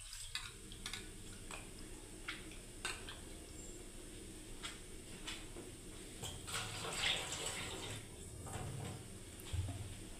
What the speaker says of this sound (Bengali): দেখুন ভালোভাবে মুসুরির ডালটাকে আমি ভালোভাবে ধুয়ে নিচ্ছি বন্ধুরা।